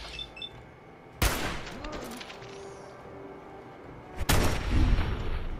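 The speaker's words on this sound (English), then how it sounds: "she's shooting me." Enemy gunfire in Fallout 4 at a drive-in, two sharp loud bursts of shots several seconds apart, the second followed by a rumbling tail, over quiet game ambience.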